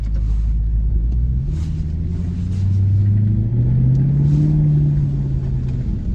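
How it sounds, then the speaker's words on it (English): A 2010 Maserati GranTurismo 4.7 V8 S with ZF automatic revs up loud and close, its raspy, muscular exhaust rumble rising and holding steady for several seconds with no talking. "you just got that very raspy, muscly sounding V8"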